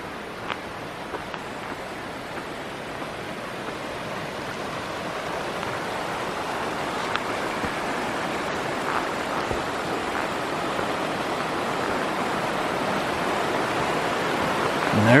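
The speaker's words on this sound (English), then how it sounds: "there's the confluence right there. The two rivers become one." Two rivers meet in a steady, broadband roar of rushing water at their confluence in the Sierra backcountry of Kings Canyon, loud and continuous throughout.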